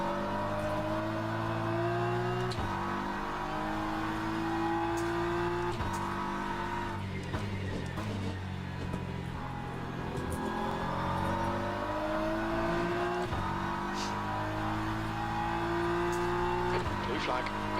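Race car engines in Le Mans Ultimate at Sebring, a steady droning whine shifting in pitch as a faster class car closes in and passes, continuous and close, with a voice talking over it.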